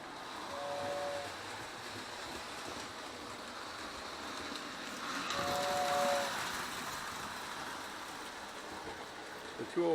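An early post-war Lionel 204 toy train runs with a low, steady rolling rumble, and its whistle sounds twice in short, faint blasts several seconds apart.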